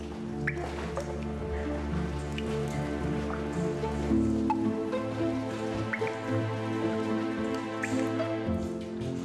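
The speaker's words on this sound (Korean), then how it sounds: "낙하하는 물방울들의 노래소리를 들으며 깊이 들어가 보면 동굴 전체가 살아있는 듯한 환상적인 느낌마저 받게 됩니다." Water drips steadily inside an ice cave in Iceland, with scattered small plinks and splashes over a constant, resonant low hum, and no voices.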